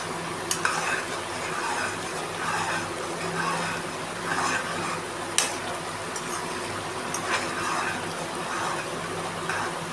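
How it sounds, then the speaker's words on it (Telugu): A spoon stirring coriander powder into paneer masala curry in a pan, soft scraping strokes repeating every couple of seconds over a continuous gentle sizzle, with a few sharp clinks against the pan. "వన్ టేబుల్ స్పూన్ పచ్చి ధనియాల పొడి ఇప్పుడు కలుపుకోవాలి."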